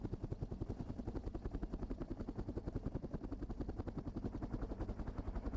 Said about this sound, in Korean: 눈에 갇힌 야생동물을 위해 헬기가 백두대간 위에 떴다.